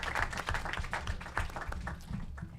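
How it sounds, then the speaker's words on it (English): An audience at a congressional district candidate forum applauds, a scattered patter of claps, moderately loud and steady, tapering slightly toward the end. "So please, everyone give a round of applause for who helped,"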